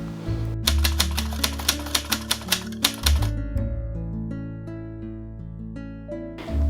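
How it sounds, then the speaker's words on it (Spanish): A manual typewriter clatters nearby in a quick, regular run of key strikes, then falls quiet, leaving soft ringing and hum behind it. "yo también contaba con una máquina de escribir, no con un computador como ahora"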